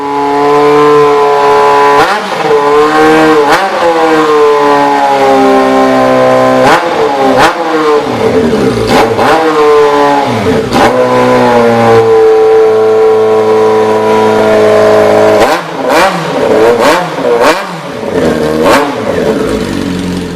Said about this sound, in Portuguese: Sente só o ronco único e maravilhoso da moto do século.